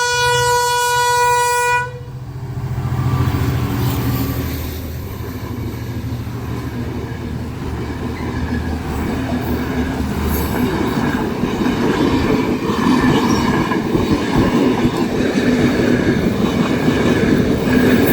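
A train horn blares loudly, then the train rumbles past close by at an unsafe level crossing in Murikandi, Sri Lanka, with heavy steady wheel and carriage noise.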